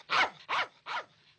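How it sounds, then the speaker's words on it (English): A dog barks three times in a quick, evenly spaced series, fairly close and clear, with near silence between each bark. "What's that dog barking at?"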